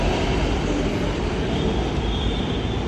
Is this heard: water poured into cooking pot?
no